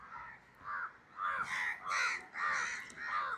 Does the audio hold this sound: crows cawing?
yes